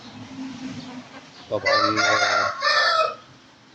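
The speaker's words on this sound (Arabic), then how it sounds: "هذا الديك البولوني، وهاي الدجاجة الشوكية." A Polish rooster crows loudly once, with a hen clucking softly before it, close by on a rainy morning; a brief word is spoken.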